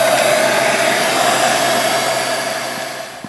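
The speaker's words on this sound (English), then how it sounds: "heat gun will make quick order of getting them off of this manifold" A heat gun blows hot air onto hot tub manifold feeder tubes, giving a loud, steady whooshing whir with a faint motor hum that fades slightly near the end. No one speaks.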